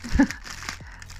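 Crinkling plastic rustles up close for about a second, a short burst of crackly handling noise fading into quieter rustles.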